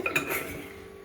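Dishes and cutlery clink briefly as chicken curry is served, a couple of quick close metallic taps at the start fading into a quiet room.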